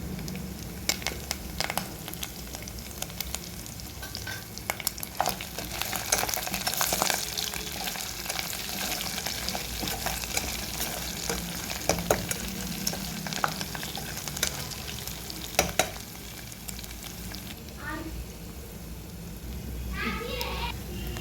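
Cumin seeds and curry leaves spluttering in hot oil, a loud crackling sizzle with sharp pops and stirring clatter, while a voice talks and children can be heard in the background.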